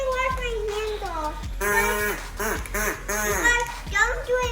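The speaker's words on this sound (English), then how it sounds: "So a duck call, that's pretty neat." A toy duck call from a mystery fidget toy box is blown in a run of nasal, wavering quacks, loud and close, with short pauses between bursts and a voice mixed in.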